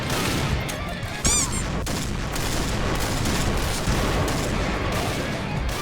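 Continuous dense gunfire from an SVU rifle in the shooting game Point Blank, loud and steady throughout with a few sharper cracks standing out over a busy battle din.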